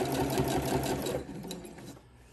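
Sewing machine stitching a quilted leaf outline on a quilt block, a close, rapid, steady mechanical whirring that slows and fades toward the end.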